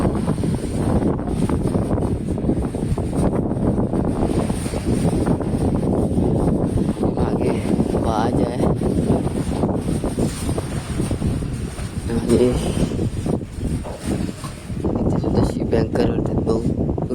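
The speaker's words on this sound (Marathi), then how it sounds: "वेदर खराब झालेला आहे वारा सुद्धा भरपूर आहे" Strong wind in bad weather on a merchant ship at sea buffets the microphone continuously, with a steady roar of sea and engine rumble beneath.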